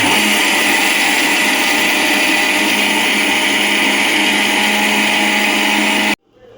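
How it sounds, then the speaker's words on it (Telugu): A mixer grinder whirs loudly and steadily as it grinds urad dal into a fine powder, holding a constant motor whine for about six seconds before it shuts off abruptly and leaves faint room noise. "ఇప్పుడు ఈ మినపప్పుని మనం మెత్తగా ఫైన్ పౌడర్ చేసుకుందామండి."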